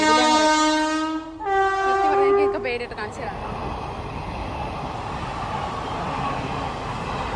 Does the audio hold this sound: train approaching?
yes